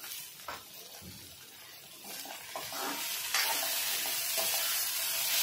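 Okra stir-fries in a pan with crushed peanut powder and kokum pieces, a soft sizzle broken by spoon scrapes and stirring knocks that grow louder and denser toward the end.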